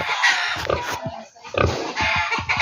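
Pigs on a pig farm raising breeding sows, grunting and squealing in a loud, continuous, overlapping chorus with short gaps, recorded close to the animals.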